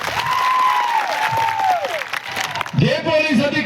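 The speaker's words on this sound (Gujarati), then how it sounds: "પોલીસ માટે એકવાર જોરદાર તાળીઓ પાડી લો" A crowd at a political rally in Kanwat claps for the police, giving sustained broad applause while a loud, amplified voice carries over it.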